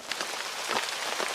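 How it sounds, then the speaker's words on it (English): Steady rain falling outdoors, a dense, even patter of drops on surfaces that continues without a break. "Why would the gods punish us with rain again?"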